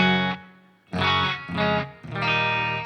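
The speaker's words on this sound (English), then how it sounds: "I have a plate reverb, which is for the clean sounds. So you might hear it a little bit here." Clean guitar chords played through a Line 6 Helix with a subtle plate reverb, four sustained strums ringing out with a light, short tail between them, loud and close with no talking.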